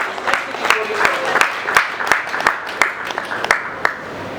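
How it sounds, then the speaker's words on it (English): An audience at the Nigeria International Print Expo claps in a hall, with sharp, distinct individual claps standing out over a softer crowd patter and some background murmur. "Let's give him a round of applause"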